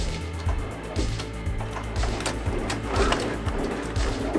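An embroidery machine stitches an applique onto a Richardson hat with a steady, even mechanical chatter at moderate volume that continues without a break.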